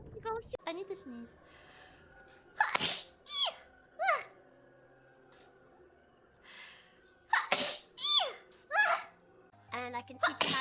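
A person sneezes several times in sharp bursts, with breathy gasps and vocal sounds between them, the sneezes loud and close and spaced irregularly.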